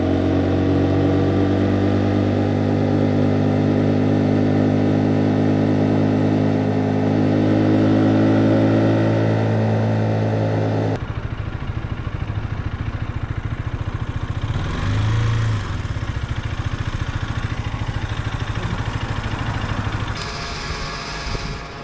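A 2024 KTM RC 125 motorcycle with a 125cc engine pulls uphill, a loud, steady, droning note heard close up under rushing wind. The tone drops and roughens partway through, then holds.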